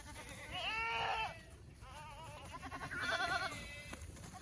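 Boer goats bleat on a farm during a winter storm, with two loud wavering calls close by, the second one shakier, set against a steady hiss of wind or weather.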